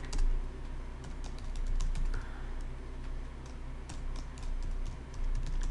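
Steady run of quick clicking keystrokes on a computer keyboard, close and continuous over a low room hum, no voices.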